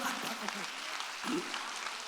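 A church congregation claps during a Sunday worship service, a short burst of dense, steady applause heard somewhat at a distance, with a preacher's voice speaking over it.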